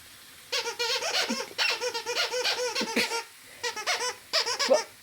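A puppet squeaker gives rapid high-pitched squeaking in quick bursts, chattering like a voice, with a short pause before more excited squeaks.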